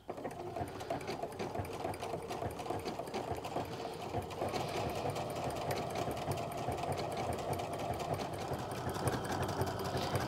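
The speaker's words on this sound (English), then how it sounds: "I'm going to use that overlocking stitch to finish that edge" Sewing machine running an overlocking stitch to finish a fabric edge on pull-on pants, a close, continuous, steady mechanical whir throughout.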